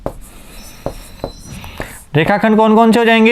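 A pen scratches out a word by hand in a few short, separate strokes during a Hindi Class 6 geometry lesson, followed by a teacher speaking loudly and clearly.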